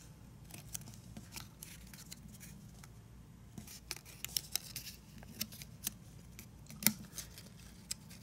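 A paper dollar bill is folded and creased by hand into origami, making quiet, close, scattered crinkles and sharp little creasing ticks against near silence.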